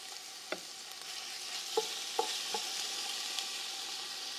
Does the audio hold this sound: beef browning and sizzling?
yes